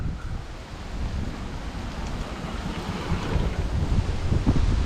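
Strong, steady wind rushes at the Koorumala hilltop viewpoint as an unbroken roar that swells slightly toward the end.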